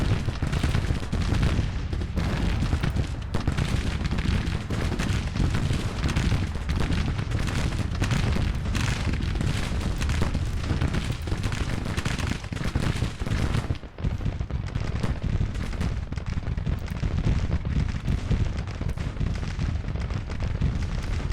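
Dense battle gunfire from the Civil War strategy game Grand Tactician fills the clip: continuous loud musket volleys and booming artillery crackle together without pause, with a brief dip midway before the barrage resumes.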